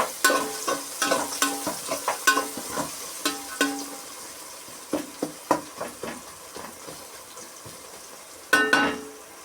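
Onions fry in a pan, sizzling steadily beneath a string of close, sharp stirring scrapes and clacks that repeat irregularly, ending with a louder scrape; no one talks.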